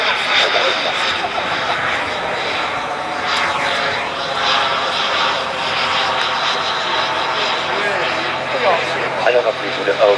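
Radio-controlled model jet, a Hawk, flying at a 2011 Maubeuge RC jet meet, its steady turbine whine sustained and fairly loud throughout, with a voice faintly audible in the background.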